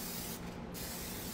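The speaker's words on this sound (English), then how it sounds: "just make sure you spray those sides" Cooking spray hisses onto the sides of a foil tray in a close, steady spray that breaks off briefly and then resumes, with no voices.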